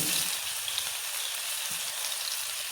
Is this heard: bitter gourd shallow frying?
yes